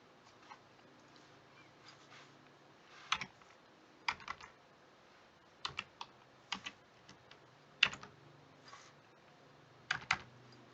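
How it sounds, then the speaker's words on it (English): Someone types a web page URL on a computer keyboard in quiet, scattered bursts of soft key clicks with pauses between, close and fairly faint, with no talking. "I'm going to type in the entire URL for the web page that I chose"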